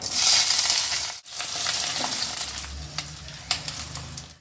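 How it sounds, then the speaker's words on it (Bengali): Green beans hit hot oil in a heated wok (kadai) with a bright, loud sizzle, then keep frying with crackling and occasional scraping stirs. "এখন আমি দিয়ে দেব বিনসগুলো"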